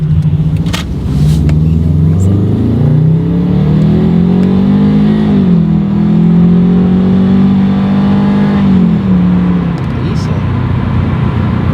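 A 2007 Subaru Legacy GT with a Stage 1 Cobb Accessport tune rumbles and climbs through revs as it accelerates, the engine note rising and falling loudly and steadily throughout.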